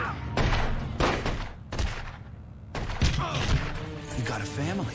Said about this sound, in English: This guy's taking lots of bullets. This guy's taking like 10 bullets.